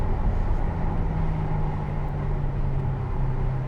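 A Ferrari 488 GTB's engine drones loud and steady inside a tunnel, a continuous low booming hum with a sustained tone and no pauses over a few seconds.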